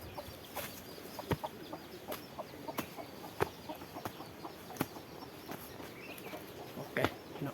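Chickens cluck in a forest camp in Laos, with scattered short calls and sharp clucks repeating at uneven intervals over a steady background hiss at moderate distance.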